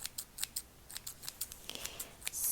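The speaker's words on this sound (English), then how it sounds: "let me do some scissors." Scissors snip repeatedly in soft, quick, irregular clicks close to the microphone, heard alone without talk as a gentle ASMR trigger.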